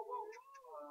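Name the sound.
cat meowing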